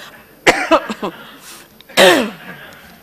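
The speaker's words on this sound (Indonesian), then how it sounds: "Waduh, batuknya." Several short, sharp coughs burst out in a quick cluster, then a louder, harsher cough follows after a brief pause, close to the microphone in a quiet formal meeting room.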